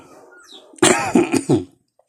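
A few harsh coughs in quick succession, close and loud, with a short throat-clearing quality, then silence.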